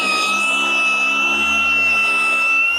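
A cordless car polisher's continuous high-pitched motor whine drones loudly and steadily, its pitch shifting slightly as it labors under hard downward pressure.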